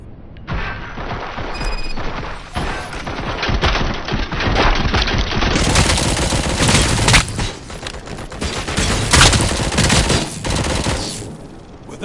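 Sustained rapid gunfire from Robocop Rogue City, a dense, loud fusillade of overlapping automatic shots and impacts rolling on continuously for several seconds.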